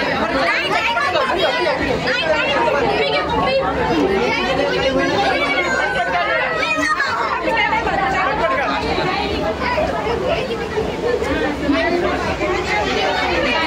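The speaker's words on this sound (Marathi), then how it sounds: "आणि लोकांची गर्दी इथे सगळ्यात जास्त" A dense crowd chatters continuously at the Nanded Utsav fair aquarium, loud overlapping voices forming a steady babble close around the listener with no pauses.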